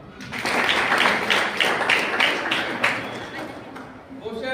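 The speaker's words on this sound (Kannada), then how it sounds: "ಇನ್ನೊಂದು ದೊಡ್ಡ ಚಪ್ಪಾಳೆ" Audience at a school student-felicitation gathering breaking into applause, a full round of clapping that swells and then fades, with a voice starting to speak again at the very end.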